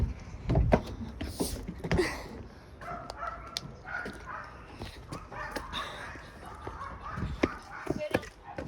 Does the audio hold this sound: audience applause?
no